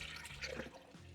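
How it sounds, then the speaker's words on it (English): Water pours into a glass electric kettle with a tea infuser, a soft, close gurgling splash that lasts about a second. "I'm going to add some water here"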